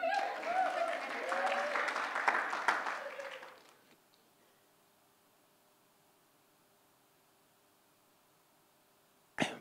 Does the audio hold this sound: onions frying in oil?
no